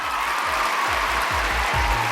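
Applause for a contestant at a school stage event, a short steady wash of hand clapping from an audience, fairly loud and continuous throughout the brief moment.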